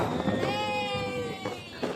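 A Diwali firecracker gives a sharp whistling shriek, with crackling bursts close by during a family celebration.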